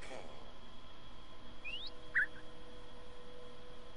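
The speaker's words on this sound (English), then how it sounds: "Why do I still hear birds?" A couple of brief, faint bird chirps in a video game, heard over a quiet background.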